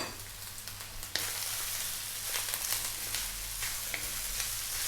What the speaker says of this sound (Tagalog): At syempre, ilalagay na rin po natin yung ating dahon ng sibuyas or spring onion.